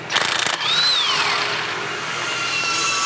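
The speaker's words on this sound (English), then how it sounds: "so don't be afraid to hit it with a big gun to take it off" A power tool backs out a 15 mm Loctite-secured bolt on a Pro XP secondary clutch: a couple of sharp rattling bursts, then a sustained whirring whine that rises and falls before settling into a steady hum.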